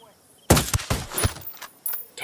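Gunfire in a Ghost Recon Wildlands convoy mission: a few sharp, loud shots crack in quick succession, with short echoing tails and another burst near the end.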